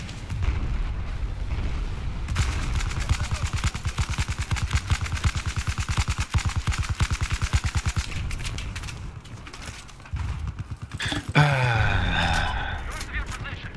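Rapid machine-gun bursts and heavy gunfire in Battlefield 4, a long run of fast regular shots over a rumbling background, broken by explosions and a sharp zipping sound near the end, with someone talking underneath.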